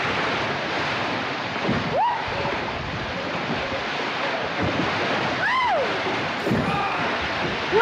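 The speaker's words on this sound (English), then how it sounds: "Can't hear anything beyond the water." Ocean surf in the soundtrack of the 1952 film The Snows of Kilimanjaro: a steady, loud wash of breaking waves and wind, continuous throughout with no clear voices.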